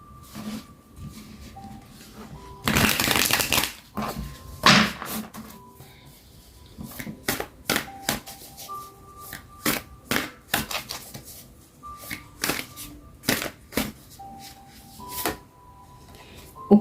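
Tarot cards being shuffled by hand in a series of crisp, papery riffles and flicks, some in quick bursts and others spaced apart, close and fairly loud, with faint soft tonal sounds underneath.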